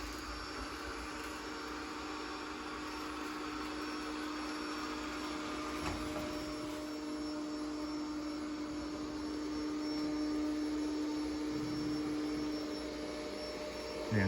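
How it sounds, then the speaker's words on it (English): A Bissell Spinwave robot vacuum and mop runs on maximum suction, giving a steady, even motor whir with a faint tonal hum. It stays unbroken and moderately quiet throughout, with no voices. "You can hear it's on max suction."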